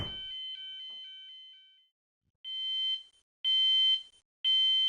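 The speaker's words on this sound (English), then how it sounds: "when you hear an intermittent fire alarm" An intermittent fire alarm in a building, a loud electronic tone repeating in distinct pulsed bursts separated by short gaps, with no voices.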